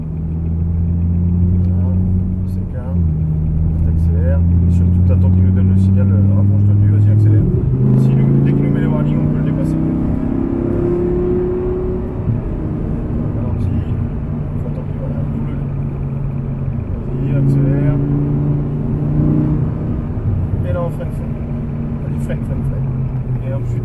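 An Audi R8 engine roars close up on the Issoire race circuit, climbing in pitch as it accelerates, drops back briefly, then pulls up again with a steady, loud drone.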